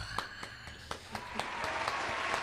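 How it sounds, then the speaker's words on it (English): Scattered applause added in editing to an entrepreneur interview, fairly faint clapping that starts sparse and thickens into a steadier patter, with no voices over it. "can y'all add the applause right there?"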